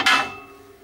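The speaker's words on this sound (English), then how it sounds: "If I rattle them like that, you can see each blade" A single sharp metallic clack as loose RB211 jet engine fan blades are shaken by hand, close and loud, its bright ring fading over most of a second.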